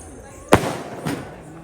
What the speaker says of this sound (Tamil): பாப்பா பர்த்டேக்கு பட்டாசு அடிக்கிறோம். எல்லாம் வெளியே நின்று ஜாலியாக 60 ஷாட்.